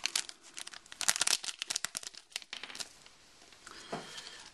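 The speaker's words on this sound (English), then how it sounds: "you simply remove the test strip from the foil" A urine drug test strip is pulled from its foil pouch, giving a quick run of close, crisp crinkles and tearing crackles that taper into a softer rustle.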